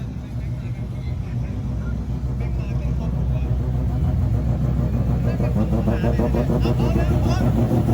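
Cars at a Thai car meet lining up for a drag race, with a steady loud engine rumble and revving that grows slightly stronger, under crowd babble and voices.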